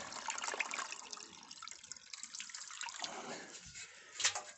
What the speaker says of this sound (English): then I just tip out water from the barrel and into here